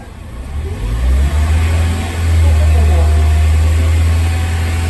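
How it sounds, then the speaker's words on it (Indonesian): A car engine is revved with the gas pedal to about 2500 RPM, the deep drone rising and then holding steady and loud close by, during a check on a stalled car with a weak battery. "Kita akan tambah RPM dulu dengan cara injak pedal gas."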